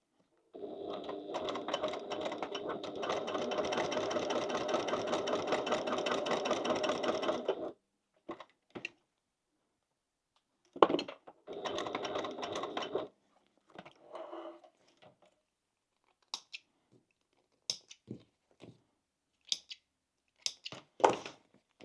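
A sewing machine stitches a crossbody bag in a long continuous burst, followed by shorter bursts of backstitching and scattered clicks and knocks of handling between pauses.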